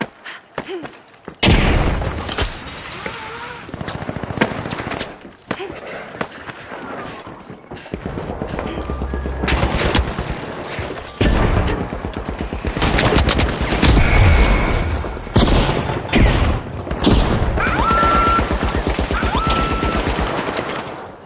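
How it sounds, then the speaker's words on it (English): Frag grenade blasts and gunfire ring out in the video game The Finals: rapid bursts of shots and booms come in clusters, loud and close, broken by short quiet gaps. "Throwing a frag. Sending a frag."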